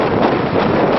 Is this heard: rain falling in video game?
no